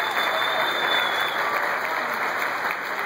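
An audience at a live concert in Durango breaks into dense, sustained applause, loud and close, with many hands clapping steadily for the whole stretch.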